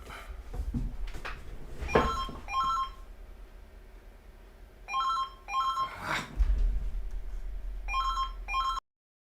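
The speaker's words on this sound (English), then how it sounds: "you're not always in charge of when the phone rings, huh?" A telephone rings in repeated bursts of bright electronic trilling, the rings coming in pairs with short pauses between them, fairly quiet against a dim room background with faint thumps.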